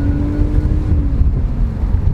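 A small six-cylinder engine in a BMW 323ci running on ethanol, a steady low mechanical drone with a faint tonal whine, continuous and fairly loud, no talking.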